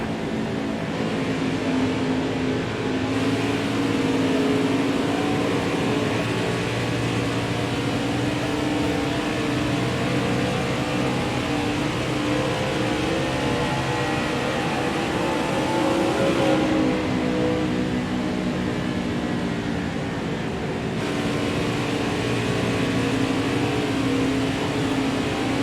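A NASCAR race car engine in the video game NASCAR Heat 4 drones continuously at high revs, a dense steady mechanical whine with slight pitch shifts as it holds speed throughout.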